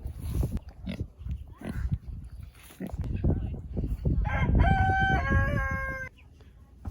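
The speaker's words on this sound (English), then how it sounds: "Then we have baby chickens, roosters and hens." A rooster on a Florida farm crows once loudly and close, its drawn-out cock-a-doodle-doo rising over a busy background of pigs grunting and other farm animal noise.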